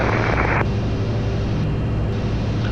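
A light airplane's engine runs at full throttle in a go-around, a steady loud drone that holds throughout with no voices.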